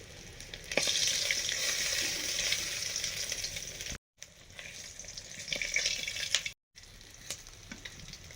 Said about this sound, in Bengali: মাছ ভাজা হয়ে গেছে, তুলে নিচ্ছি